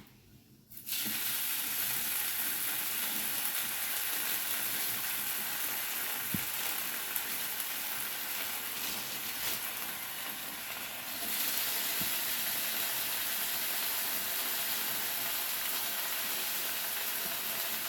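A beef burger patty sizzles steadily in a hot pan, a loud continuous frying hiss that starts abruptly and holds for the rest of the clip with slight crackles.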